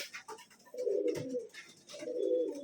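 A male Guldar pigeon coos close by in two deep, drawn-out phrases, with faint bird chirps in the background and no talking.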